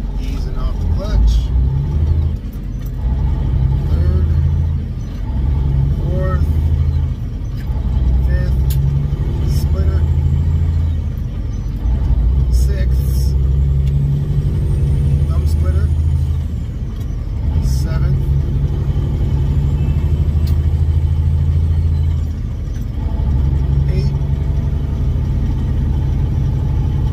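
A semi truck's diesel engine rumbles low and steady from inside the cab while a driver shifts through a 13-speed manual transmission, the drone rising and easing with each gear change as someone talks over it throughout.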